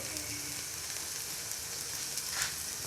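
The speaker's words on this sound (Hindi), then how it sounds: "सौते करेंगे, फिर इसमें मैं अपना चिकन ऐड कर दूंगा।" Chicken sautéing in a pan for chicken Manchurian gives a steady, soft sizzle and hiss throughout, fairly faint, with no talking.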